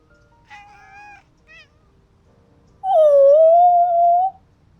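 Stray cats meowing in the Love and Deepspace game: a pair of short mews, a brief chirp, then one long, loud drawn-out meow, close and clear with no talking.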